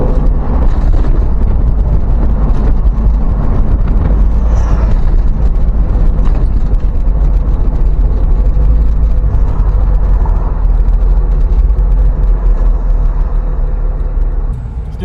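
A Jeep Cherokee XJ with a rebuilt Dana 30 front axle cruises down the road, a steady loud low rumble of engine and road noise with wind buffeting, continuous throughout and no talking.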